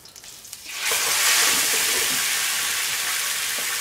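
Cod frying in olive oil in a pan bursts into a loud, steady sizzle after a short quiet moment, the crackling hiss continuing close and unbroken.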